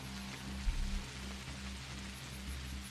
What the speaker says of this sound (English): The rain's getting thicker now, too.